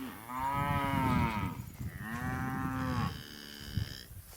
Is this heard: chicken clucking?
no